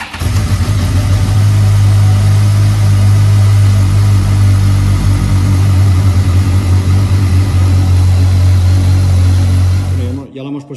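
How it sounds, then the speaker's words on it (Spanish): A BMW K1200S motorcycle engine, checked after electrical ground work, runs at a loud, steady idle close by for about ten seconds before cutting off abruptly at the end. "Ahora vamos a arrancarla y a ver si carga bien."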